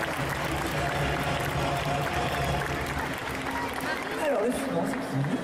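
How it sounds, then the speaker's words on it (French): An audience at a costume parade applauds a cosplayer, a dense wash of clapping from a large crowd sustained throughout, with faint voices mixed in. "on peut l'applaudir très très fort s'il vous plaît."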